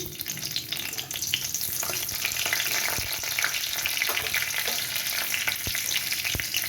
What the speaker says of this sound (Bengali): আমি তেলের মধ্যে এবার ফোড়নটা দিয়ে দিচ্ছি।